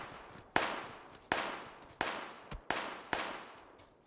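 Five sharp gunshots ring out one at a time at an uneven pace in a battle royale video game, each crack trailing off in a long echoing tail, heard a little way off with no talking.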